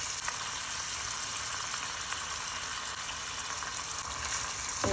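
Prawns and shrimp fry in a pan with garlic, black pepper and corn for a coconut prawn and mushroom dish, giving a loud, steady, close sizzle that holds without a break for the whole stretch.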